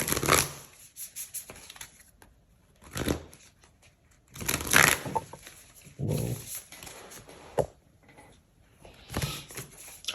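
Tarot cards shuffled and drawn during a reading, heard as several separate bursts of riffling and slapping cards, close and fairly loud, with short quiet pauses between them.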